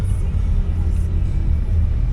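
Road traffic on a hot day in Bogor, Indonesia: a steady low rumble of car engines passing close by, continuous and fairly loud, with no talk.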